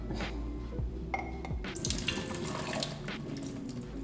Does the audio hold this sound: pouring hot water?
yes